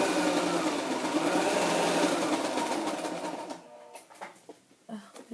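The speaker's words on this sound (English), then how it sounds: "My sewing machine, the tension seems a little weird." A sewing machine runs in a fast, steady rattling burst, then stops, leaving short faint clicks and handling sounds.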